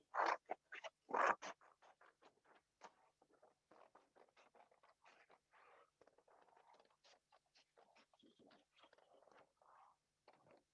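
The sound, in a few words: cutting out a painted paper flower with scissors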